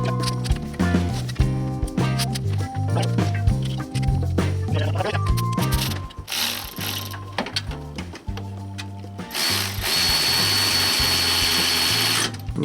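A Milwaukee cordless power tool runs bolts home on the alternator of a Jeep Wrangler TJ, with repeated loud whirring bursts and ratcheting clicks, then a longer steady high whine near the end, all close up with no talk.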